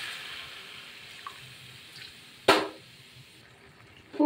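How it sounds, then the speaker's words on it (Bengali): Water added to a pan of elephant apple pickle cooking with turmeric, a brief splash and gush over a low simmering hiss, with a second smaller splash near the end. "এবার জল দিয়ে দেবো"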